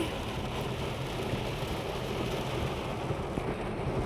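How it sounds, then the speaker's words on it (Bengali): Heavy rain pours down in a steady, dense wash of noise that holds at an even loudness throughout, with no voices. "তবে এখানে এরকম বৃষ্টি হচ্ছে এটা আমি বলতে পারি। খুব বৃষ্টি।"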